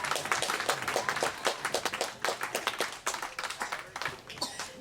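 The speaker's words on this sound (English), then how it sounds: "another round of applause for their final rotation." Scattered clapping from an outdoor audience at a flamingo encounter show, with uneven individual claps and bursts spread over several seconds, close and fairly loud.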